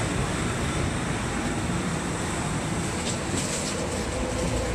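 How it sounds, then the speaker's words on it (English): Inside a passenger train, a loud, steady rumble of wheels and carriage noise fills the space as the train starts up and gets moving, with no talking. "they started the train up."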